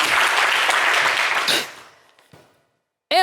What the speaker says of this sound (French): on applaudit Paul également